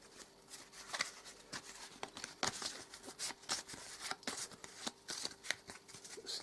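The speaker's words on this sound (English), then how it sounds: "Shuffle them up." Cards for the Eldritch Horror board game being shuffled, a steady run of crisp riffling flicks close by, alone without talk.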